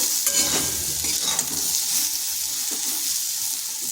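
Pointed gourd (potol) frying in a pan, giving a steady close hiss of sizzling oil with a few light stirring scrapes and no speech.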